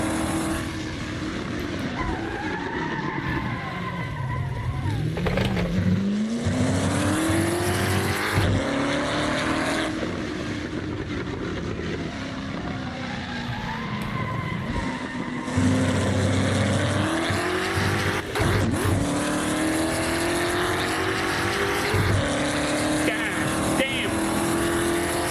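Old-school American muscle car in the Assetto Corsa racing game: a loud, continuous engine roar rising and falling through gear changes, with repeated revving sweeps and downshifts across the whole stretch, no talk.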